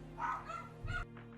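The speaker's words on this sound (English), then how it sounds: "Apologies for the barking dogs." Dogs bark in the background, a short bout of two yapping barks, moderately loud over a steady low hum.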